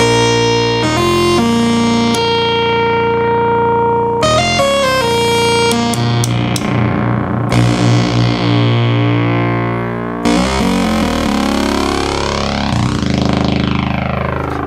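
Restored 1972 Minimoog synthesizer playing sustained tones with its oscillators slightly out of tune against each other, producing sweeping beating and phasing across several held and changing notes, loud and alone.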